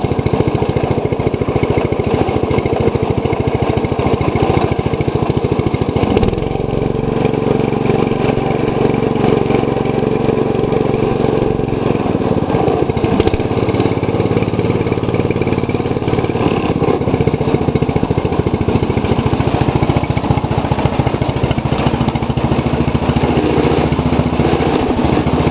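A 2012 MTD lawn tractor engine running close by, a loud, steady droning hum that holds throughout with a slight shift in pitch partway, with no talking.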